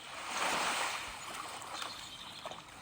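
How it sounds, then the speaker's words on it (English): Lake water ambience in a MicroVerse game scene, a steady soft wash of lapping water and gentle surf that swells slightly and then holds, heard alone with no talk. "we hear the lake"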